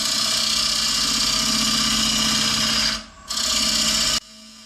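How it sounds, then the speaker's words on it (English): A sharp Forstner bit bores into beech wood on a lathe, a loud, steady motorized whine that briefly dips near the end and then cuts off abruptly. "Those Forstner bits work well."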